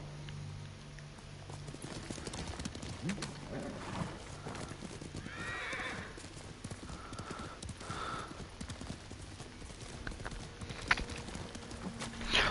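Horse hooves clip-clop at a walk in the video game Ghost of Tsushima, a quiet steady rhythm with a couple of whinnies midway, fairly faint throughout.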